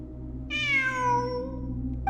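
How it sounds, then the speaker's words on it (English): A cat in the video game Genshin Impact gives one clear, drawn-out meow that slides downward in pitch, loud and close over a low steady background hum. "It really is a cat."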